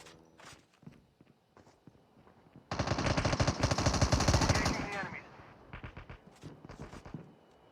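Bursts of automatic gunfire from Call of Duty Mobile: quiet scattered shots and steps at first, then a dense, loud rapid-fire volley lasting a few seconds that trails off into sparse, irregular shots.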